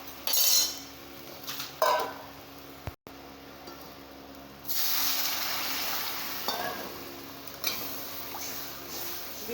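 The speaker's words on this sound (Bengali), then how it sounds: "তো এখন আমি এর মধ্যে জল দিয়ে দেবো।" Water is poured into a hot pan of potatoes that have been frying in oil, setting off a burst of loud sizzling with clinks of a utensil against the pan, in short bursts and then a longer hiss.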